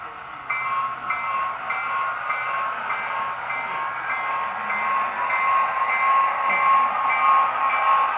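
A steady running rumble from an S-gauge DCC model train with a sustained tonal hum, holding continuously at moderate volume.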